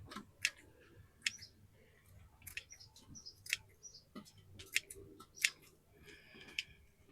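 Leek roots and leaves being trimmed before planting out: a series of about eight crisp, sharp snips at an irregular pace, close by, with no talking.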